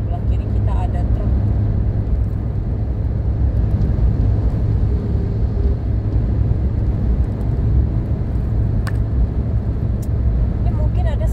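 Steady, loud road rumble from a car travelling the Pekanbaru-Dumai toll road, with a truck running alongside on the left; the drone stays continuous throughout, with a voice talking over it.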